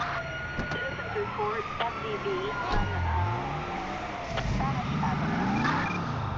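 Police car sirens wail in GTA V during a chase, rising and falling over engine roar and tyre skids, with someone talking over the game sounds.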